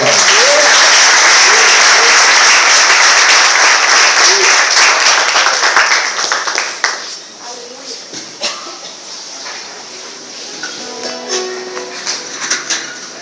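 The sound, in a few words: audience applause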